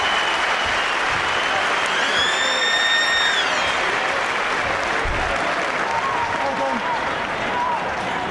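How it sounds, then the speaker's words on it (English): Sustained applause from a large stadium crowd at a rugby league match, the 2007 centenary international between the Northern Union and the All Golds, with a dense, steady clapping roar and a few whistles throughout. "And he get a great round of applause from everyone inside the stadium tonight."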